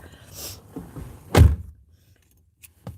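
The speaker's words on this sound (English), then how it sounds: "let me close my door here" A car door closes with one solid thunk in the middle, after some faint handling noise and followed by a couple of small clicks.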